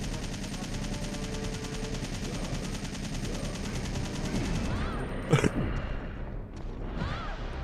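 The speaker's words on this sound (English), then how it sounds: "I can hear him shooting down there" Rapid sustained gunfire from Nemesis in Resident Evil 3, a dense continuous automatic burst echoing from below, followed by a sharp crash and quieter scattered shots.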